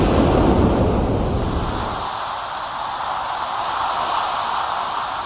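Soft, steady rushing hiss like distant surf, heard through a seashell held to the ear near the ocean, a fuller low roar for the first two seconds thinning to an airy wash with no voices.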